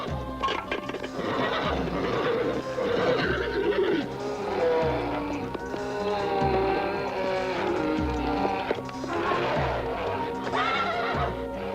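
A winged horse whinnies and snorts amid a busy, full mix of other sounds, continuous and loud throughout.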